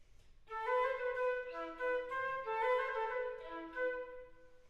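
Telemann passage on a solo wind instrument played with a slur-three, tongue-one articulation, a short phrase of clear connected notes with grouped attacks, close and soft, without speech.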